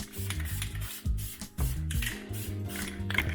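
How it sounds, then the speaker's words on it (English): Short bursts of spray paint hiss, close and fairly quiet, as BMW M3 brake calipers get their first coat, several quick sprays in a row. "All right, all 4 corners are sprayed for the first coat, just enough to get some paint on there."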